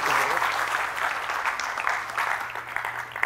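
Sustained audience applause welcoming Michael Flynn to a lecture, steady dense clapping throughout with no break, recorded from within the hall.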